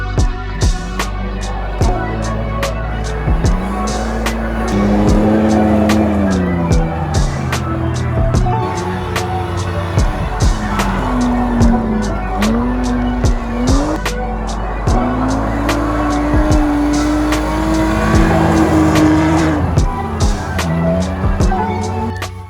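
A blue BMW on studded tires drifts around a track cut on a frozen lake. Its engine revs rise and fall repeatedly, loud and sustained, with scraping tire noise and sharp clicks from the studs running through.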